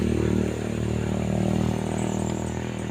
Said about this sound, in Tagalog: marami ng mga motor naman guys